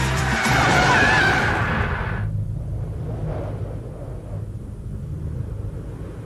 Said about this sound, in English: With an advanced four-wheel disc anti-lock braking system, it delivers the best stopping ability in its class.